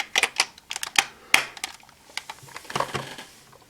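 Plastic clicks and snaps from a Kamen Rider Vail Driver toy belt unit as its side connectors are lined up and pressed into place, a close run of sharp taps in quick bursts then softer scattered clicks.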